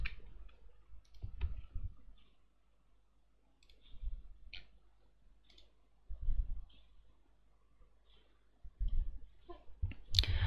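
Computer mouse clicks while playing the PC game Stick War Legacy, faint scattered taps in irregular clusters against quiet background noise, with no talk.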